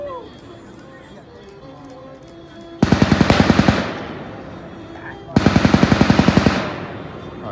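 Two bursts of rapid automatic gunfire from a real gun at an outdoor graduation event, each lasting about a second with sharp repeated shots, loud and close over a steady background murmur.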